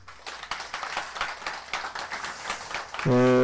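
Applause from an audience at a Buddhist Dharma service for Buddha's Birthday, a dense run of many hands clapping for about three seconds before a sustained tone cuts in at the end.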